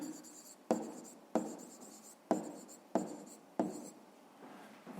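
Handwriting with a pen on paper while a fifth-grade maths exercise is solved: a regular series of about six scratchy strokes, each starting with a crisp attack and tapering off, close and quiet, with no voices.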